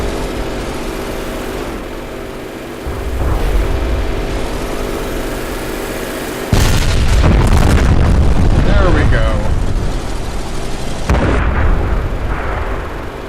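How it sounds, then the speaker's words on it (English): Artillery fire in a video game, a series of heavy booms and rumbling blasts that build into a louder barrage partway through, with a voice talking over the shelling. "Artillery, I've missed you."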